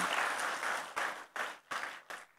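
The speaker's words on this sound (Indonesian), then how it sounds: "Berikan tepuk tangan yang paling meriah untuk Tuhan" A church congregation claps for God at a preacher's call, dense applause that breaks into several distinct bursts with short gaps toward the end, moderately loud.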